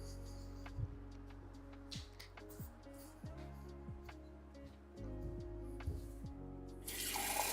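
Water runs from a tap into a sink in a room at low level, a soft continuous splash with small clicks and shifting tones, becoming louder and fuller near the end.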